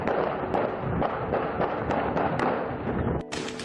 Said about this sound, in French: les gomatriciens se réveillent sous des coups de feu